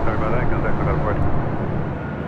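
Airliner engine roar from a plane landing at LAX, a loud, steady broadband rumble that stays constant for the short span, with a voice speaking briefly over it.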